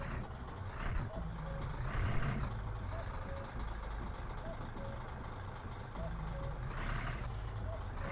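Truck reversing in the video game My Summer Car at dusk: a steady, repeating series of high reversing beeps over a low engine rumble, with a couple of brief louder bursts and talking mixed in.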